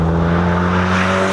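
A Toyota MR2 sports car drives along with a steady, loud engine drone heard from inside, the tone holding constant with no talking.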